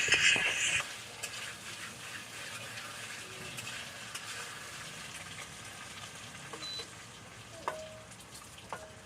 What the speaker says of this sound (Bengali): আর বিট আলু গাজর দিয়ে একটা ভাজা করব ভাবছি এই যে ভাজা বসিয়ে দিয়েছি